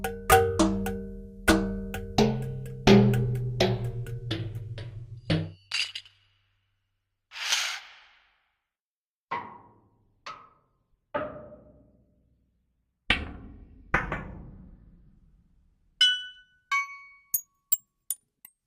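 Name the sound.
sampled cans, magnetic balls, steel pipes from Soundiron library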